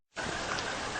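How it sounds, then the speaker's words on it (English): Rain starts suddenly after a moment of silence, then settles into an even, hissing downpour produced by a rain-cloud machine, heard alone and fairly faint for about a second. "It's raining!"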